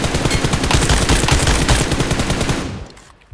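Rapid automatic gunfire from a mobile shooter video game, loud, continuous bursts of shots with dense rhythm for about two and a half seconds before cutting off to near silence.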